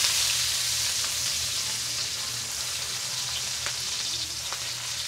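Garlic sautés in hot oil in a pan, sizzling steadily and close up, with a faint low hum underneath and no talking.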